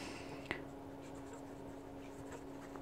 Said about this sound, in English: here's one that's gonna be probably putting down a lot less ink, the Midori fountain pen